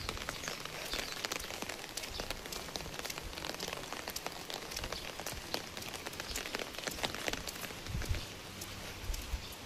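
Rain falls steadily as a dense, even hiss of drops pattering on a surface, with no voices heard.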